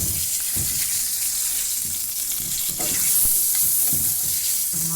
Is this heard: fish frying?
yes